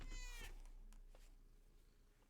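A pet cat gives a short, close meow near the start, followed by quieter faint rustling with no talking.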